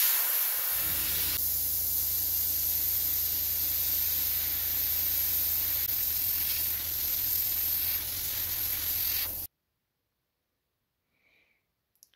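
An airbrush spraying transparent black paint onto a handmade fishing popper lure gives a steady close hiss that runs unbroken for about nine seconds, then stops abruptly into near silence with a couple of tiny clicks.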